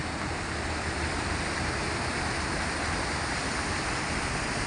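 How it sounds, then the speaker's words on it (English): A steady, broad rush of falling water from a waterfall at Aldrich Bay, Hong Kong, loud and continuous with no pauses and no voices. "And there's a waterfall."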